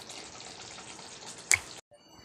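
Liquid being poured during home cooking of a paneer and pointed gourd dish, a soft, steady, splashy hiss lasting under two seconds with a brief louder spike before it stops abruptly.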